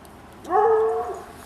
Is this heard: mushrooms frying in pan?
no